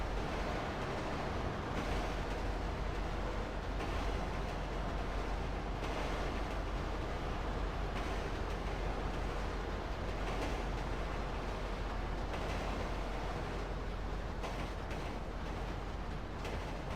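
Freight train running in the WorldwideRP video game, a steady, dense rumble and rushing noise at moderate level, continuous throughout with faint rhythmic clatter and no talking.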